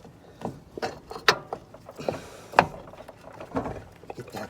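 A hand-operated pump or jack works in sharp, irregular clicks and ratcheting knocks while a 1996 Honda Civic axle is being installed, with quieter mechanical rattles between the louder strokes and no voices.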